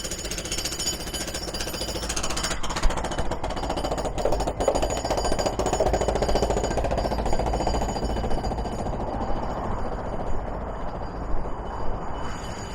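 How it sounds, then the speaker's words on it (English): A jackhammer pounds steadily outside near a grocery store, a loud, continuous rattling hammering that holds for the whole stretch with no talk over it. "I wasn't expecting a jackhammer"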